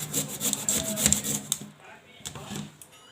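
Kohlrabi is grated by hand in a home kitchen, a quick run of rhythmic rasping strokes followed by a few sparser scrapes, close up.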